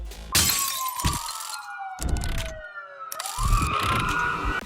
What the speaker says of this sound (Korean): 와장창 깨지는 효과음과 함께 등장하는 문구들